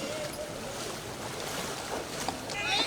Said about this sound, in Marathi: आपण जर पाहिलं तर नदीला अजूनही पुराचं पाणी जे आहे ते सुरू आहे।